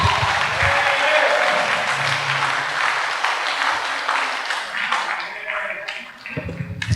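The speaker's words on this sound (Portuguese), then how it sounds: "Dá uma salva de palmas para Jesus" A church congregation at a Baptist service in Selvíria gives a sustained round of loud applause that gradually thins out near the end.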